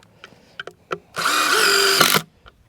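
A power drill drives a screw into an ICF insulated concrete form, a single loud whirring burst of about a second, preceded by a few sharp handling clicks, close and alone.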